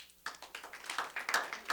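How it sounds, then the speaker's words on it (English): A small sheet metal class gives a round of applause, a faint, sparse patter of a few people clapping that starts abruptly and continues briefly in light, uneven claps. "Round of applause"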